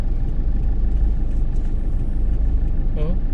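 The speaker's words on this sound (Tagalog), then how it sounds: "Ang tindi pala ng traffic dito sa area na to." Dense road traffic with trucks and cars, heard as a steady loud rumble of idling and crawling engines close by, with a brief horn-like tone near the end and no clear voices.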